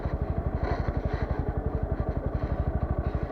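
A motorcycle engine runs steadily during a night ride ahead of drifting, its dense rapid low thumping pulses loud, close and continuous with no voices.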